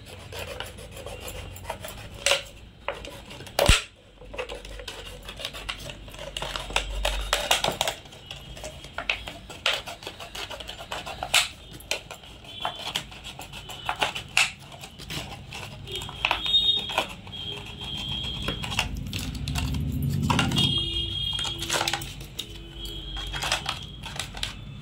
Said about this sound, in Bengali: এবার এর ওপরের অংশটা ঠিক সেমনিভাবেই আমি কাটছি